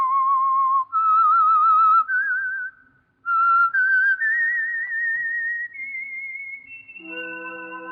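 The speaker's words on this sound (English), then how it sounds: "Let that whistle be your signal for the Signal Oil program, The Whistler" A single person whistles a wavering, sliding melody as the signal for the radio mystery program The Whistler, clear and alone, with a brief pause midway before a low sustained orchestral chord enters at the end.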